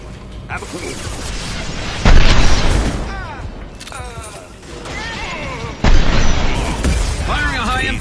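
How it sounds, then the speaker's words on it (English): Heavy weapon shots in the sci-fi shooter Mass Effect 2 during a loyalty mission, two loud booming blasts a few seconds apart over dense combat noise, music and voiced in-game chatter. "Firing a high-impact shot!"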